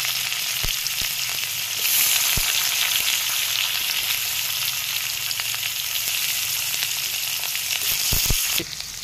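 Bitter gourd pieces frying in a wok full of oil give off a steady, loud hissing sizzle, broken by a few sharp clicks of a stirring spatula, with no talking.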